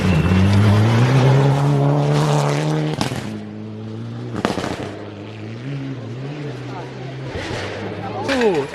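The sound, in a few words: BMW rally car passing at a hairpin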